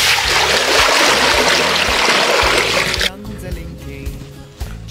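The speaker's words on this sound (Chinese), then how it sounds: "熟了啊， 来 倒水。" Water pours into a cooking pot holding boiled beef tripe in a nomadic Mongolian kitchen, making a loud, rushing splash for about three seconds. It then stops, leaving quieter clatter and people talking.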